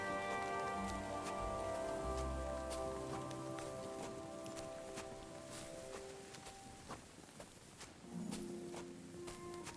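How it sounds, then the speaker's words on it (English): Rain falls in Kingdom Come Deliverance 2, a quiet, steady patter of drops on surfaces beneath game sounds, with footsteps and a few sharp clicks scattered through the scene. "Yeah, the rain is so bugged out."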